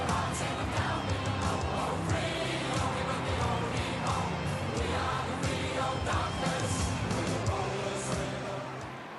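A dense stadium crowd at a women's AFL football match, Fremantle against Adelaide, roars and cheers in a steady, loud wash of voices with scattered whoops and yells, fading slightly at the end.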